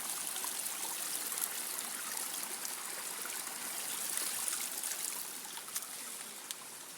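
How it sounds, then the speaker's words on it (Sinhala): A jungle canal stream flows downhill in a steady, soft broadband wash of trickling water, constant and fairly faint throughout with no voices. "ඇලේ වතුර ඉතින් මෙහෙම පහළට මනකම් ගලාගෙන යනවා"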